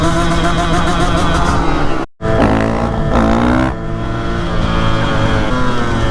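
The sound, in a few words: KTM 150 dirt bike engine revving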